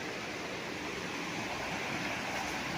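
A clear river beside a farm lot in Real, Quezon rushes in a steady, even wash of flowing water, heard alone without speech.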